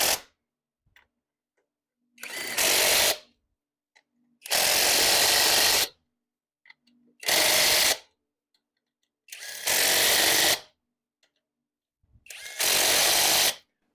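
A small cordless impact wrench drives lug nuts on a 2022 Polaris Sportsman 570 ATV, five loud, close bursts of about a second each, separated by quiet pauses.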